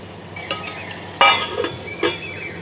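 Stirring potato tomato curry in a pan on the stove: a few soft scraping and clinking strokes of a spoon against the pan, close and brief, with no talking.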